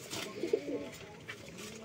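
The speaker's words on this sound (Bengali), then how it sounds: "এগুলি বড় হইলে মানে দেখার মতন কবুতর হয়" Pigeons coo softly in a loft, a few low throaty coos close by against a faint background murmur, with a hint of distant voices.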